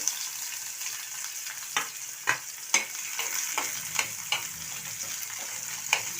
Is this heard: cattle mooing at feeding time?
no